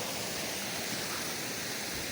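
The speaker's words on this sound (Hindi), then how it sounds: "पत्थर से पानी गिर रहा है और वाटरफॉल है भाई।" Steady broadband roar of a waterfall pouring off rocks on a mountain road near Marhi in the Rohtang area of Himachal, continuous and enveloping with no voices.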